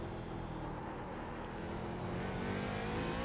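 Prototype race car lapping Sebring in iRacing holds a steady, loud engine drone at high revs, close and continuous, with no talk.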